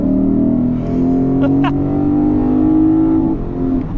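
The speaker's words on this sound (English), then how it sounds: "going into the Sport Plus drive mode and leveling my foot to the floor" A 2024 Lexus IS500 with a 5-liter V8 accelerating at full throttle in Sport Plus mode, its engine note rising loudly and steadily, with a brief shift blip midway, heard from inside the cabin.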